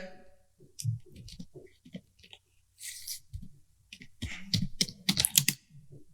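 Keystrokes on a computer keyboard entering a journal voucher in Tally Prime come in irregular bursts of close clicks, some quick clusters, with quiet gaps between.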